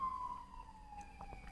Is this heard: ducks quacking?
no